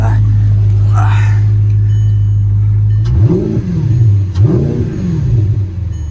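A 2009 Audi R8 V8 raised on a garage lift idles steadily, then gives two sharp revs that rise and fall, loud and close, with a faint voice early on.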